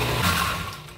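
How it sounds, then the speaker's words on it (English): A food processor whirs steadily for a brief moment, grinding apples and water into applesauce with a dense, continuous buzzing motor drone. "I'm gonna go ahead and process this and grind it all up into applesauce"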